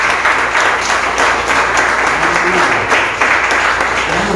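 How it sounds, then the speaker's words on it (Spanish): Church congregation applauding for the Lord, a steady dense wash of clapping with some voices and singing-like tones underneath, held evenly throughout. "Dale un aplauso fuerte al Señor."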